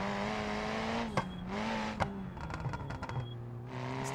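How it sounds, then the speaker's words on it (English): Front-wheel-drive race car driven in BeamNG on the Deals Gap (Tail of the Dragon) track mod, its engine droning steadily with rising and falling pitch as it shifts, plus a few short sharp clicks. "Front wheel drive race car."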